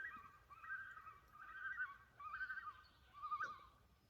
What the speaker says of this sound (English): I had to pause for that bird.